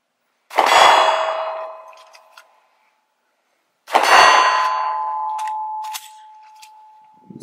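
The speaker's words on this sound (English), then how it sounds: "let's shoot a couple mags out of the P320 Compact and see how I do" A Sig Sauer P320 Compact 9mm pistol fired at an outdoor range: two sharp, loud reports about three seconds apart, each followed by a ringing metallic decay and smaller clinks, with no talk.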